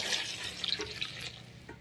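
Water is poured over fresh mushrooms to wash them, a brief close splashing and trickling with a few drips fading out, no voices.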